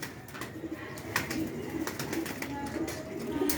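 A Firozpuri pigeon breeder pair coos in soft, repeated low murmurs close by, with rustling and faint background voices.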